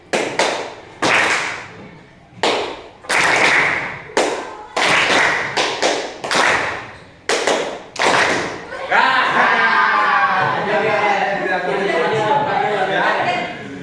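Students in a classroom concentration exercise clap in sharp, separated bursts of group hand claps with brief pauses between them, followed by lively overlapping chatter and voices as the clapping stops.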